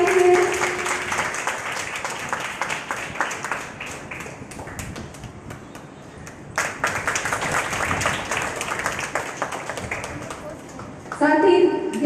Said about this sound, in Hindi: तालियों की गूंज होनी चाहिए।